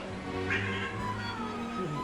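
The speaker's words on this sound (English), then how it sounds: "If you hear a cat, I'm sorry, my cat is hungry" A hungry house cat meows indoors in a home kitchen, giving two drawn-out, fairly close meows.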